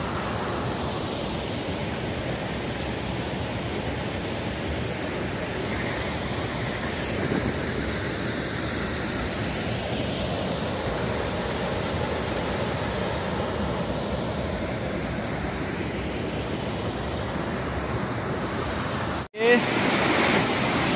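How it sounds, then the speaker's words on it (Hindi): Steady, full roar of rushing water from the upper part of a waterfall in a dense forested valley, heard from nearby, continuous throughout with a brief sharp break near the end. "झरने का ऊपरी भाग।"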